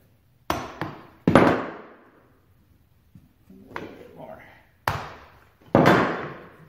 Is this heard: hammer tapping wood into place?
yes